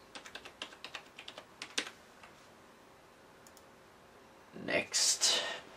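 Someone types a password on a computer keyboard while installing Linux on a PS3: about two seconds of quick, close key clicks, then a quiet pause, then a voice speaks briefly.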